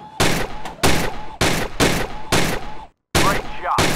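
Rapid bursts of gunfire in the VR shooting game Gun Club VR, five or six loud, close sharp volleys at a steady rhythm, with a brief gap before the last burst.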